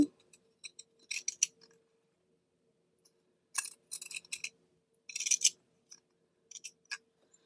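Scissors trim a curved fabric seam allowance in short, crisp snipping bursts separated by pauses, close and fairly quiet against an otherwise silent room.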